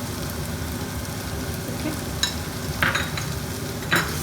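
Powdered spices such as turmeric fry in hot oil for a biryani, a soft continuous sizzle broken by a few scraping stirs of a spoon in the pan, with one short spoken word.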